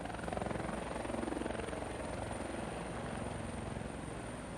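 Steady, dense rotor and engine drone of a helicopter, fairly loud and continuous throughout with a faint rhythmic chop and no voices over it.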